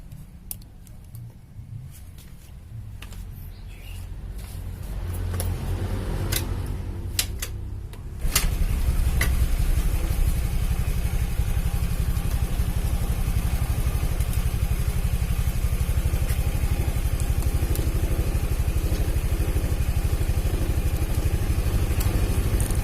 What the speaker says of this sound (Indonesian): Oke, motor saya coba hidupkan.